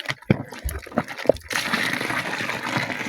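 Water poured in a steady gush into a liquid soap mixture being stirred during homemade soap making, starting with a few splashes and stirring knocks, then a continuous loud flow that fills the rest of the moment.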